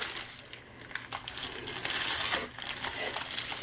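Packaging from an unboxed digital art item is opened by hand, producing close, irregular crinkling and crushing bursts of plastic with a louder flurry midway and no talking.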